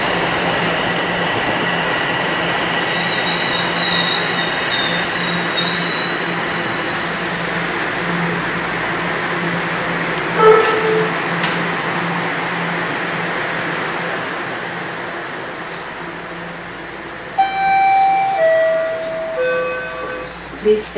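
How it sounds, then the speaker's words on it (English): A Toronto subway train pulls into the platform with a rising rumble and high squealing wheels that grow louder near the end, over a steady hum of station noise. "So I'm on the platform. And here comes a train."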